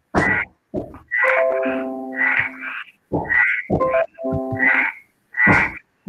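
Frog croaking in a classroom setting, a series of loud, close, repeated croaks in bursts with short pauses between them, heard alone without talk.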